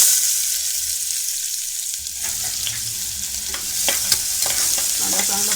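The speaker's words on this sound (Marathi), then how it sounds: "कांदा चांगला परतून घेऊया." Onion sautéing in hot oil inside a pressure cooker while being stirred, a steady loud sizzle with scraping stir strokes and no voices.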